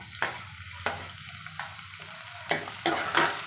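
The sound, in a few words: onions frying in oil with cumin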